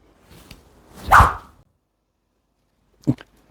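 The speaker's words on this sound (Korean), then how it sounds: "백스윙 탑에서 다운스윙 출발할 때 휙 하는 소리가 날 정도로 속도를 내는 거죠" A lightweight golf practice tool is swung fast, giving one sharp whoosh at the downswing, close and brief, followed after a pause by a short second swish.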